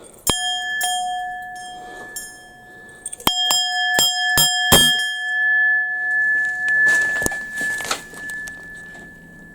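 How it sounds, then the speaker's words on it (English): Bright metallic chimes ring out in scattered strikes, some tones sustaining and overlapping, followed by a softer jangling shimmer of chime rods. "Oh, a little wind chime on there now."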